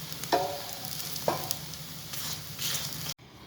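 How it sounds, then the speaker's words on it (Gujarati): An aloo paratha on a hot pan sizzles softly after oil is added, with a couple of brief scraping or clinking touches and steady faint crackle before it cuts off abruptly near the end. "હવે બીજી સાઈડ આપણે પલટાવી લઈએ. હવે આની પર આપણે થોડું તેલ નાખીશું."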